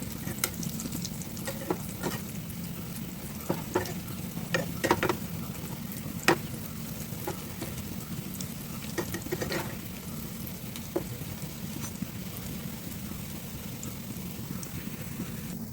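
Beef cutlets fry in hot oil over a medium flame, a soft, steady bubbling sizzle broken by scattered small pops and crackles, with no one speaking.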